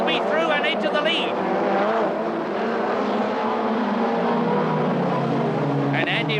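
Touring cars including a Ford Sierra race at the 1989 BTCC Birmingham Super-prix, engines screaming loud and close with rising and falling pitch as they pass and accelerate, under a commentator's voice.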